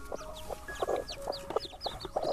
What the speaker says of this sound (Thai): เอาแม่ไก่ออกก่อนเ